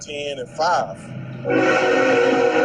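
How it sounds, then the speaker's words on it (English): A train horn sounds close and loud over steady rumbling rail noise in the second half, after someone speaks over a call in the opening seconds. "Sorry about the train, y'all."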